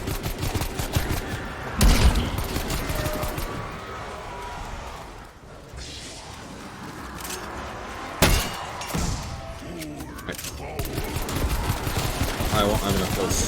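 Gunfire in a zombies-mode video game: rapid bursts and heavy shots, with two sharp loud blasts near the start and middle, a brief quieter stretch, and game noise running throughout.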